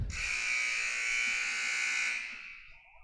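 A long electronic buzzer sounds at a boys varsity high school basketball game between Portsmouth and East Greenwich, loud and steady for about two seconds before it cuts off, with a low thud at the start.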